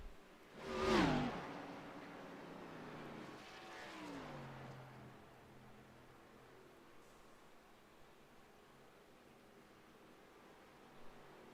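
ARCA Series race cars on cool-down laps at Kansas Speedway make a single distant engine pass that swells early and fades, then a fainter whine drifts off under steady broadband crowd and wind noise.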